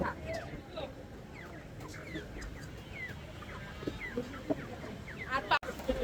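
Several chickens cluck and squawk in short bursts nearby at a market stall, over a busy background with occasional voices.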